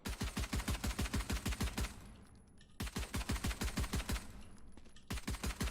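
The Ghost pistol in Valorant fires in rapid bursts of sharp, evenly spaced shots, two quick strings separated by brief pauses, loud and close with no talking.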